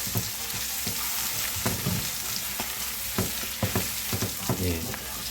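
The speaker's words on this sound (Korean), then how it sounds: "이게 좀 뜨거우면 타니까 안 타게 고추기름을 살짝 만들어 주는 거예요." Fine chili powder frying in hot oil to make chili oil for jjamppong, a loud dense sizzle running throughout, broken by repeated scrapes and taps of a spoon as it is lightly stirred.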